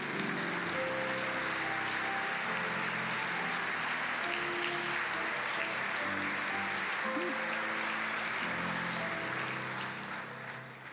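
Steady, dense applause from a large audience at a scholarship awards ceremony, sustained throughout and easing slightly at the very end.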